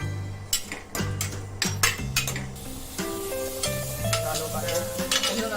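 Onion fries and sizzles in a pressure cooker while a spoon stirs it for a Malvani potato curry, with crackling hiss, irregular metallic scrapes and clinks against the pot, close and moderately loud.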